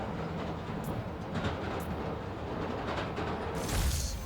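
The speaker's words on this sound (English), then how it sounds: "Hearing the clatter of the wheels, the squealing when the train turn or stop" Subway train wheels clatter steadily on the tracks in the Spider-Man: Miles Morales video game, a continuous rumbling roll with faint rhythmic clacks and a brief airy hiss near the end.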